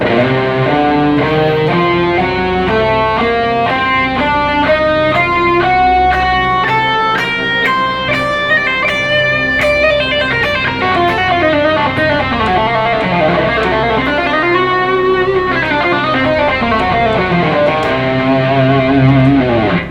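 Guitar notes run quickly up and down a Lydian Augmented scale over a sustained diminished backing chord, steady and clear with no talking.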